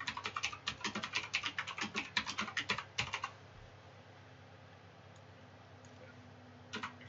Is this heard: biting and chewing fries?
no